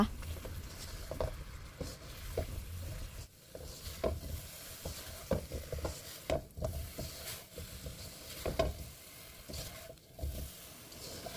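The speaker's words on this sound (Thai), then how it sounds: "ส่วนที่เหลือเราก็จะคนต่ออย่าหยุดมือจนตัวน้ำตาลของเราแห้งดีเลยนะคะ" A spatula stirs winter melon in a pan as the sugar syrup dries, giving soft scraping, pattering and faint sizzling in an irregular rhythm, close and fairly quiet, with no talking.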